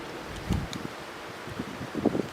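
Wind at a canoe campsite blows across the microphone in a steady, muffled rush with a few brief gusty rustles, close and continuous, with no talk.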